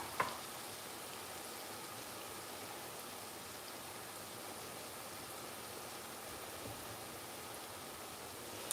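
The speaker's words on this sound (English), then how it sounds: "Let our tomato cook and then we are going to just going to add the beans inside. So let's let this cook a little." Tomato cooking in a pan gives a steady, even frying sizzle that stays at about the same level the whole time, with no voices over it.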